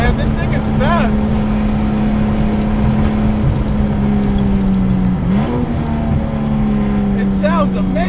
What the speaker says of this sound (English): It sounds amazing. That's the 2J. Well, 2J with zero sound insulation.